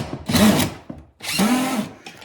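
A power drill drives screws into a kitchen cabinet in two close, loud bursts, each whirring for about half a second to a second, with rising and falling motor pitch and a short pause between them.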